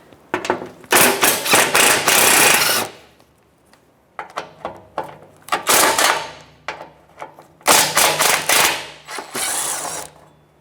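A 12mm socket ratchet removing the skid shield bolts under a 2010-2022 Toyota 4Runner, rapid bursts of loud ratcheting clicks in several runs separated by short pauses and small metallic taps, close up.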